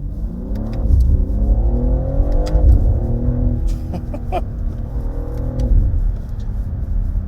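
A BMW G80 M3 Competition, about 510 horsepower, accelerates hard, its engine note rising and falling loud and close across a couple of revving pulls with a steady rumble beneath.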